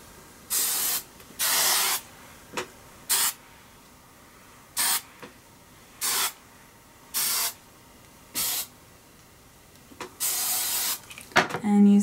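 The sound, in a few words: hairspray being sprayed on a bouffant updo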